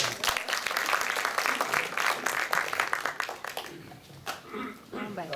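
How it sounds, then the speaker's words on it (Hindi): An audience at a literary evening claps loudly to welcome a poet. Dense applause fills the first few seconds, then thins and fades as a voice begins speaking. "जोरदार तालियों से स्वागत कीजिए।"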